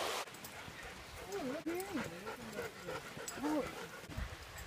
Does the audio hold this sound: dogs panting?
yes